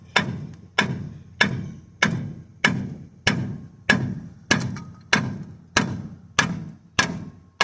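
A hammer whacks a worn, thinned truck brake rotor in a shop: about a dozen sharp, evenly spaced metallic blows, each ringing briefly before the next.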